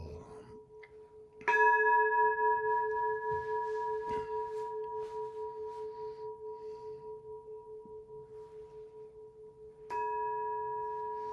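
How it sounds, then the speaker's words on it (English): A temple bell at a meditation gathering is struck once, a clear sustained tone that rings and slowly fades with gentle beating, then is struck again near the end, in a quiet room. "Sound of the temple bell."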